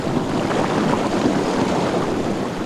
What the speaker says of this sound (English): you can hear it now, even the wind's just rustling through the reeds